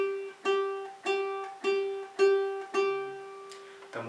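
A ukulele's fourth string plucked repeatedly to tune it, six or so clear ringing notes at an even pace, close and alone, ending with a brief muffled knock.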